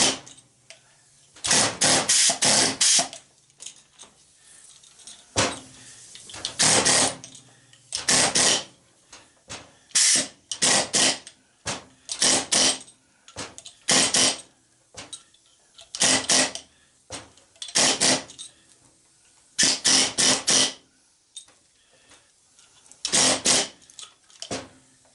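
A chisel cutting apart a garage door opener for scrap, heard as about a dozen loud, rattling short bursts separated by brief quiet pauses, with no talking.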